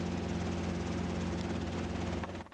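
Loud, continuous drone of a helicopter rotor and engine from inside the cabin during a storm, steady low thrumming with broad rushing wind-like noise and no talking.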